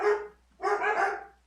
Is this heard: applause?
no